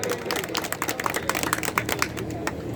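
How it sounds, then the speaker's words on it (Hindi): A crowd at a public government relief camp gathering claps in dense, steady applause, loud and close throughout. "एक बार जोरदार तालियां बजा के हम स्वागत करेंगे"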